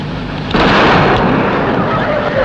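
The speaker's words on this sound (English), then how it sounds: "Can you cope with an explosion at close quarters?" A close-quarters explosion sound effect for a 1968 Peter Cook and Dudley Moore comedy episode, a sudden loud blast that swells into a rough, rumbling roar and sustains without talk over it.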